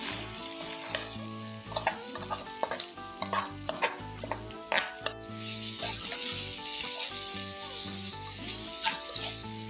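Egg stirred and fried into a jackfruit seed thoran in a pan, with scraping spoon strokes and clinks over a soft sizzle that steadies into a continuous fry, set against background music.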